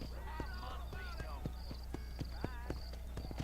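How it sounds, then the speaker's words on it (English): Horse hooves clip-clopping along a trail in the Red Dead Redemption video game, a steady rhythmic run of muted thuds with other game sounds and speech over them. "Ooh, I like this one. It's a pretty horse."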